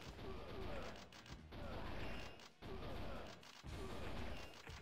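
Gunshots and impacts from the Sega Saturn light-gun shooter Virtua Cop sound in a busy, repeated stream of loud pops and crashes, broken by short gaps, with game noise throughout.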